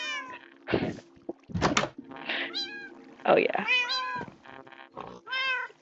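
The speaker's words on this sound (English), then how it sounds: "I have so many Minecraft cats." Minecraft cats meow repeatedly in the game, with several short, high, overlapping calls close up, while a person talks briefly in between.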